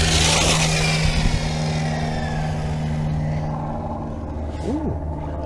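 ARRMA Talion RC truck motor revving during an outdoor test drive, a sharp whining rev at the start that settles into a lower steady hum, with an engine drone and brief rising whine tones later.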